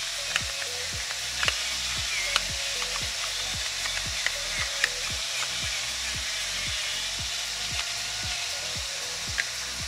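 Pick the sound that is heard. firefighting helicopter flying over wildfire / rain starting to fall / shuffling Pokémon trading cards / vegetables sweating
vegetables sweating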